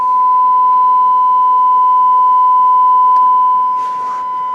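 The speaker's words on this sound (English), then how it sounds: "We got a sine wave output." A steady, pure sine wave test tone from a Western Electric 142A tube amplifier holds at one pitch, with faint background hiss and a brief burst of noise near the end.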